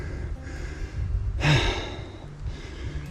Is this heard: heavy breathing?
yes